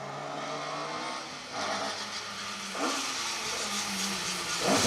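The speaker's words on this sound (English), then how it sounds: "As you can hear, the anti-lag turned up to the max." Group A rally car passing on a historic rally stage with anti-lag turned up to the maximum, a loud rising engine roar sweeping by with crackling pops, then another surge building at the end.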